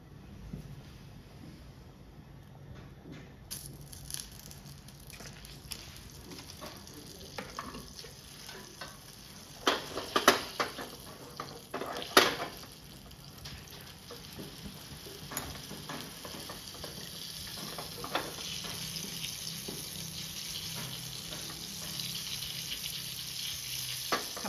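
Butter sizzling in a pan on a gas stove for a pav bhaji tadka, a soft continuous crackle with intermittent stirring scrapes and a louder burst of frying midway.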